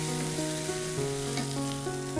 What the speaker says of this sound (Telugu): దీంతో పాటుగా కొద్దిగా అల్లం వెల్లుల్లి పేస్ట్. పచ్చివాసన పోయేంత వరకు వేయించుకోవాలి కదండి?